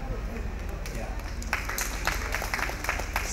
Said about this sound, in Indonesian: Tepuk tangan untuk teman-teman difabel.